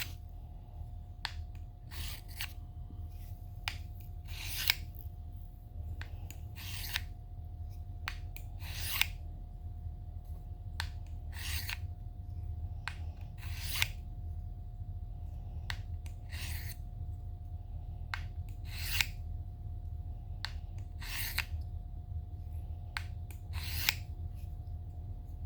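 A double-edge broadhead is drawn across the coarse side of a sharpener in repeated crisp scraping strokes at a steady, unhurried pace, close by over a low constant hum, with no voices.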